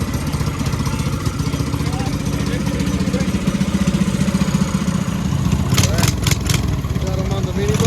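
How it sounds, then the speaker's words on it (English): A small engine on a homemade minibike runs with a rapid, steady putter at close range, with voices and brief clatters over it. "Got him on the mini bike."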